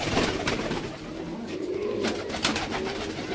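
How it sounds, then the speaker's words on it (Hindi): Fancy pigeons coo in a loft, with a steady layer of soft overlapping coos and rustling that fills the space without a break. "मैंने सारे कबूतर आपको खोल के दिखाए हुए हैं आज"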